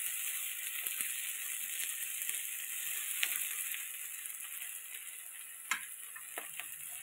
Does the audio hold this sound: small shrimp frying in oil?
yes